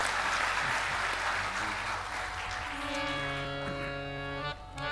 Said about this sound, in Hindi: तनिक ताली बजा दीजिए।